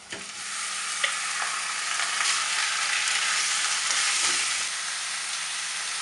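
Lamb pieces sizzle loudly in hot oil with softened onions in a pan for mutton curry, a steady close frying hiss with brief stirring scrapes.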